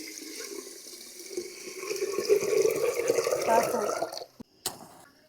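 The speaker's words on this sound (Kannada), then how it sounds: "ಅಕ್ಕಿಗೆ ಎಷ್ಟು ನೀರು ಬೇಕೋ ಅಷ್ಟು ಹಾಕ್ಕೊಳ್ಳಿ." Water pours into a pot of washed rice for making village rice wine. A bubbling, splashing stream builds and runs for a few seconds, then cuts off, followed by a couple of brief knocks.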